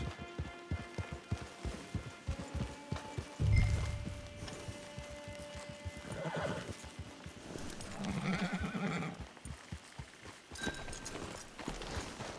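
Horse hooves clip-clopping in the video game Red Dead Online, a steady trotting rhythm close by with a couple of snorts and whinnies mixed in, fairly quiet.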